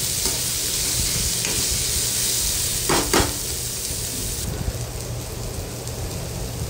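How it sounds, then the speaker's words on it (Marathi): Tomatoes are stirred into fried onion and garlic in a pan, a loud continuous sizzle running throughout, with a couple of quick scraping strokes near the middle; no one speaks. "टोमॅटो पण मिक्स करून घ्यायचं व्यवस्थित।"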